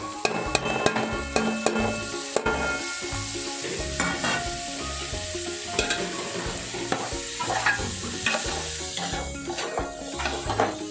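Boiled chicken stir-fried in a pan with chili powder and salt while making chicken kheema fried biryani, with constant sizzling under repeated sharp scrapes and clinks of a spatula against metal.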